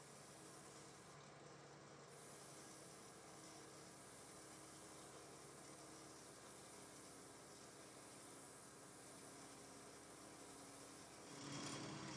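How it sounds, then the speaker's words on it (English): A flat sanding pad rubs steadily back and forth across a wooden roller, a continuous close scratchy rasp that runs for about ten seconds and stops abruptly near the end, with no voices. "I'll use a flat surfaced sanding pad to help me get a straight edge across the width of this roller"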